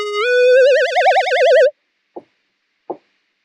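A Cars preset from the Alchemy synth plays a bright, buzzy held tone that slides up and wobbles with vibrato, then cuts off, followed by two short, dry knock-like hits, loud and alone.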